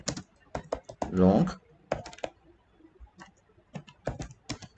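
Code being typed on a computer keyboard, quick clusters of clicky keystrokes in bursts with short pauses, close and fairly loud, a brief vocal sound amid them.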